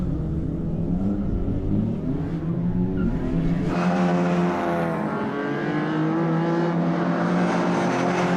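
Rally cars race at Blyton, among them a 2.5 litre Vectra, with loud close engines revving hard and rising in pitch as they accelerate past, and a tyre scrub partway through.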